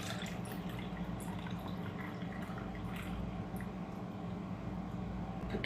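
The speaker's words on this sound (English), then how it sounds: "Now I'm gonna pour my coffee." Coffee trickles and splashes steadily into a cup of coffee ice cubes over a low, constant background hum, with no voices.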